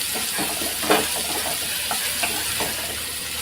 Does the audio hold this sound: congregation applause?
no